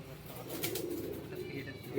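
Pigeons coo low and steady while flying high on a rainy day, a soft continuous murmur under general outdoor noise, with a brief louder burst at the very end.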